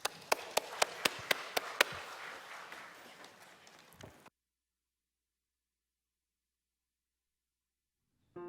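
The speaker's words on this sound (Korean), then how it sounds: "박수로 맞이하도록 하죠." A congregation claps at a Sunday church service, with sharp individual claps standing out over a dense wash of applause for about four seconds before it cuts off abruptly into silence.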